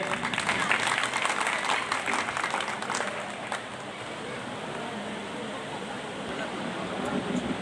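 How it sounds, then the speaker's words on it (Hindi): Applause at a school alumni gathering in an inter college hall, a loud burst of many hands clapping that fades into a softer, sustained patter, then picks up slightly at the end. "जोरदार ताली बजा करके स्वागत करिए।"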